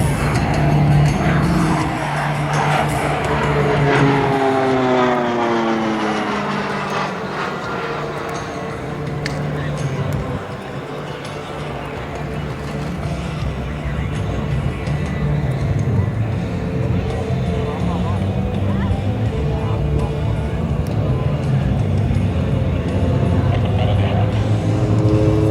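Aerobatic aircraft of the Esquadrilha da Fumaça at an airshow build speed for a snap roll, their engines roaring loud and steady with pitch sweeping up and down, while voices carry underneath.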